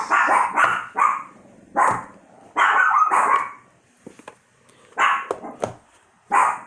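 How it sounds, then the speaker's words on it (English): A small dog barks outside in repeated sharp bursts, several barks in quick clusters separated by short pauses, fairly close and loud. "They heard a little dog outside barking"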